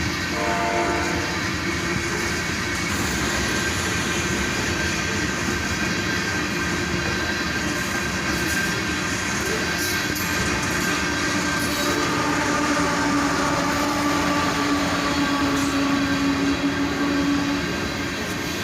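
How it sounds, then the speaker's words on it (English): A heavy southbound freight train loaded with iron ore, led by a single ET-44AH locomotive, rumbles past steadily and loudly, with continuous wheel and car noise and a faint squeal of wheels, no voices. "A southbound loaded iron ore train, led by a single ET-44AH."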